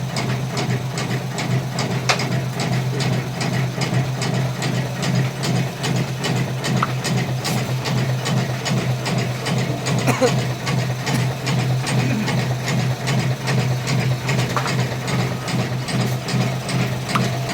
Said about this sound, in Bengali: বাতাসা মেশিন।